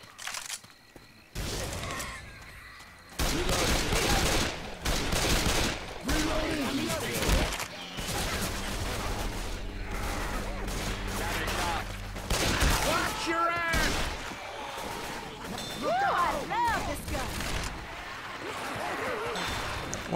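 AK rifle fire in Left 4 Dead 2, loud repeated bursts of automatic shots with impacts and crashes throughout, mixed with game effects and people talking over it.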